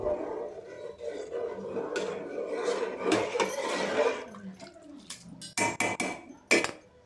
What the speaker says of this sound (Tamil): இப்போ நம்ம கிளறி கொடுப்போம்